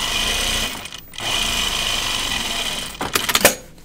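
Sewing machine stitching along a bound edge, a loud steady motor whir with brief pauses and a burst of faster, uneven stitching near the end, no voices.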